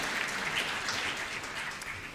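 Faint, distant applause from an audience at a policy speech on housing and economic security, a continuous soft wash of clapping lasting a couple of seconds with no clear voices.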